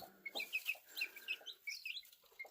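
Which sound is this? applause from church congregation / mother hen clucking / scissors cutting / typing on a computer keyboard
mother hen clucking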